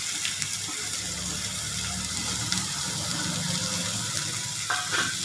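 Sliced onion dropped into hot oil in a kadai for egg onion samosa stuffing, a steady sizzle with watery hiss and a few stirring clinks, close and continuous.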